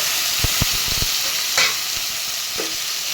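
Chopped tomatoes frying loudly in a pan with ginger paste, a dense continuous sizzle close up, broken by a few low stirring knocks and scrapes, no voices.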